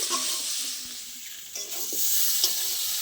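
Fried potatoes and pumpkin stirred into a spice paste in a hot frying pan, a close, loud sizzle with scraping stir strokes that swells toward the end, no voices.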